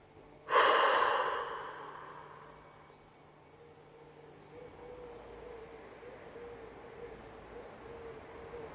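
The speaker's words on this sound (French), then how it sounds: "soufflez encore" A single strong exhale during a relaxation exercise: a loud, close breath out that fades over about a second, followed by quiet room tone.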